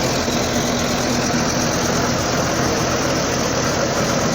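A generator at a fairground runs in a steady, loud, unbroken drone, close by and without pauses or voices.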